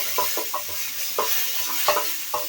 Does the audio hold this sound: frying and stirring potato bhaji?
yes